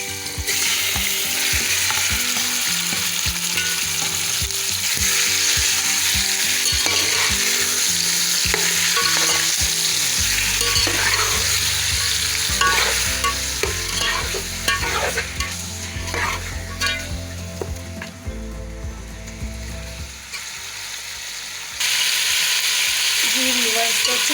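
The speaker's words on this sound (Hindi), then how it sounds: "अब हम इसमें चिकन ऐड करेंगे।" Chicken pieces fry in hot oil for chicken egg biryani, a spatula stirring and scraping the pot in repeated strokes over a continuous sizzle, close and loud, with a brief softer stretch near the end.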